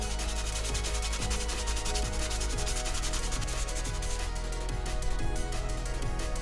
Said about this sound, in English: We might as well sand this down and get the layer lines off